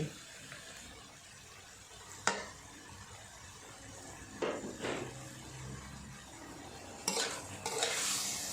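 Pork belly stir-fried in a pan for a spicy Thai stir-fry, giving a steady sizzle with a few sharp scrapes and clacks of a spatula against the pan, no voices.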